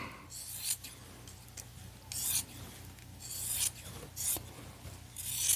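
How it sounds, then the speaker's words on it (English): Scissors snip through men's shirt fabric in several short, quiet, crisp cuts at close range, with faint rustling between strokes. "And then you're going to want to cut it back this way."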